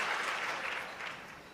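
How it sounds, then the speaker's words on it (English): A short burst of audience clapping at a career talk, moderately loud at first and easing down within a second or two. "We can definitely clap."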